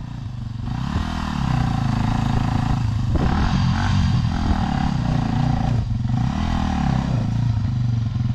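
A dirt motorcycle on a muddy spring trail revs hard in repeated surges, the engine rising and falling as the rider tries to get traction, loud and close with some clatter, no voices.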